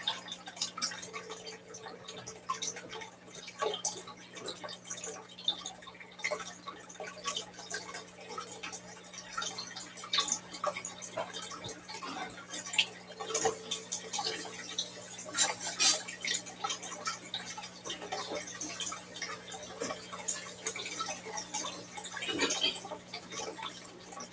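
Water dripping and trickling in a kitchen sink, faint scattered drips and splashes over a low steady hum, with no voices.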